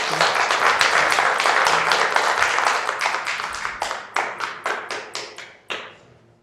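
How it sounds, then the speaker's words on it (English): Audience at a city planning commission meeting applauding: dense clapping that holds steady for a few seconds, then thins into scattered, separate claps before stopping. "I'll just remind the audience that we should refrain from clapping afterwards"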